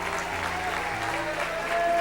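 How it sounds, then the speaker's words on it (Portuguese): A church congregation applauds in a continuous wash of clapping while sustained organ or keyboard tones hold underneath. "Aplauda o Senhor."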